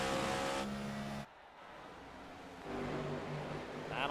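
Simulated NASCAR race cars roar down the front straightaway at Gateway in the iRacing game, loud engines that cut off briefly after an upshift and then build again as more cars pass.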